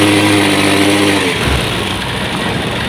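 A motorcycle engine with a magnet pickup pulser being tested, running loud and close with a throttle blip that rises, then settles into a steady rough drone.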